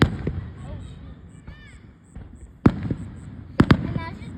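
Fourth of July fireworks in a neighbourhood, a few sharp distant bangs and pops spread out over several seconds, with faint whistles between them and people talking nearby.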